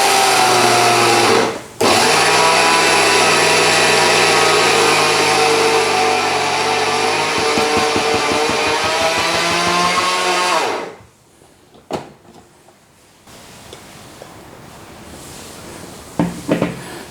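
A small blender whizzes sesame seeds into tahini with a loud, steady motor whine that shifts pitch and grinds as the paste thickens, briefly stopping near the start, then cutting out at about eleven seconds, leaving quiet handling noises.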